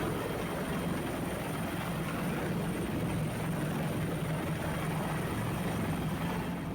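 A helicopter used by a joint military and police team to evacuate residents from a remote mountain district in Papua, heard as a steady, loud rotor and engine drone throughout with no talk.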